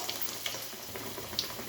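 Bread pakoras deep-frying in hot oil, giving a steady faint sizzle and bubble with a few soft pops, heard alone at low level.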